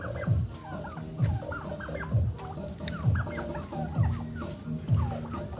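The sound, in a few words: turkeys gobbling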